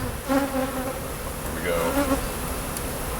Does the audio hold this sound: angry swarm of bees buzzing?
yes